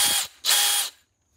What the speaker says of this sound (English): the hammer drill